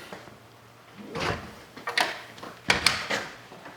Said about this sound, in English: Door is locked.